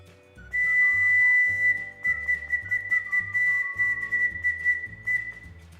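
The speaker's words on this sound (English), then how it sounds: "Dandelion horn. See what sounds you can make with yours." A dandelion stem horn blown outdoors, giving a thin, sustained whistling squeal with small pitch wobbles over several seconds, close and fairly steady, with some low background knocking underneath.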